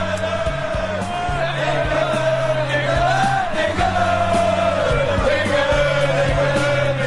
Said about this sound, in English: But we can hear a crowd somewhere singing "England, England."